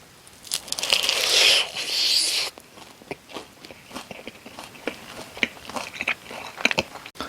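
Close, crisp bites and chewing of sweet-salty pepper-seasoned chicken wings, starting on the drumette, with a loud crunchy bite burst early followed by a steady run of smaller crackling chews, no talking.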